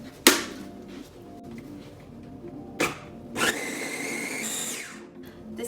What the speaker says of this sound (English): let's take this over there and blitz it into a nice paste for our koftas